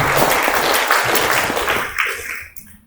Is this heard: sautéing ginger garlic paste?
no